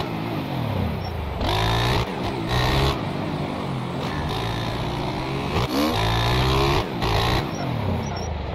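Motorcycle engine revving hard during a wheelie in the motocross game MX Bikes, a loud close buzzing roar that surges and falls in repeated bursts across the whole stretch.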